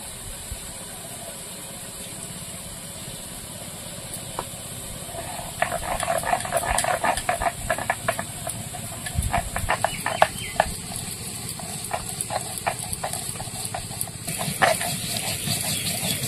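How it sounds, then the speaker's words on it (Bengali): Cumin seeds ground by hand on a stone for curry, a series of irregular scraping and knocking strokes in a quiet kitchen with steady background hiss, rain-day ambience and faint clatter. "শুক্তোটা হতে হতে আমি দুটো তরকারির জন্য জিরে বেটে নেব।"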